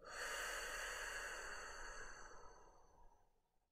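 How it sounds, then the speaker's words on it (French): Slow, deep breath sounds during a guided relaxation exercise, an airy exhale filling most of the span and fading gradually toward the end, close and fairly soft with no talking. "vous allez inspirer en gonflant le ventre et la poitrine et souffler en les laissant redescendre"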